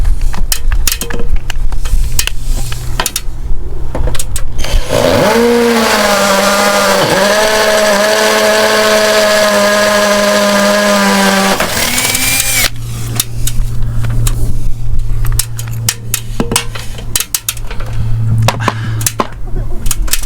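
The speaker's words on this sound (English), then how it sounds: "And get the big drill." An electric drill whines steadily for several seconds, pitch dipping as it bites, then stops, while fitting a Fiamma F45s awning to a Citroen Relay campervan; tapping and handling noises surround it.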